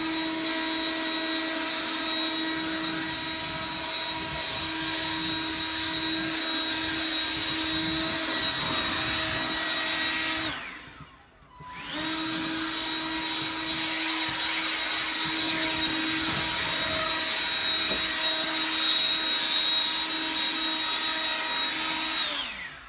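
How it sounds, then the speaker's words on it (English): A Snapper 48V battery leaf blower runs with a steady, loud whining motor roar and airy rush, briefly cutting out and spinning down about halfway through before surging back to full power. "this blower uses whatever power it has to try and keep going"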